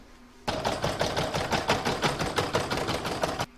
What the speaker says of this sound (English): I'm going to pop that back in my machine and stitch round number 3, which is the quilting.